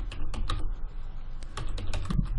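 Keys clatter on a computer keyboard as a company name is entered into SAP software, a quick, close, uneven run of crisp keystrokes with no voices.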